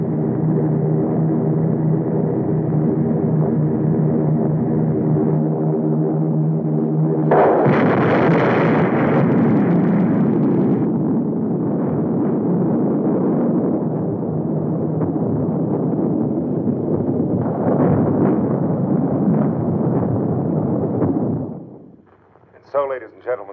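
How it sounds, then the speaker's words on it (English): A 1952 film's atom bomb blast bursts in as a loud roaring rumble partway through, under continuous narration, then fades into a long sustained roar before cutting off near the end. "The atom bomb has been dropped on the United States of America."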